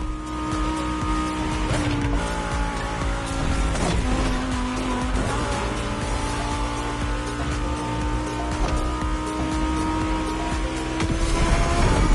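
A Lamborghini Egoista accelerating hard in The Crew Motorfest, its engine roaring steadily and loudly with rising and shifting pitch, and brief tire squeals mixed in.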